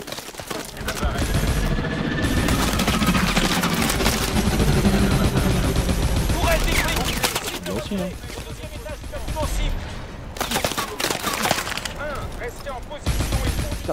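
Gunfire in the video game Call of Duty Advanced Warfare, a dense, continuous barrage of shots and explosions running throughout, loud and busy, with players talking over it.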